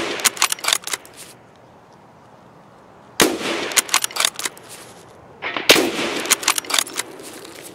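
Suppressed gunshots in Escape From Tarkov, in two bursts of rapid, sharp snapping shots separated by a quiet pause, loud and close.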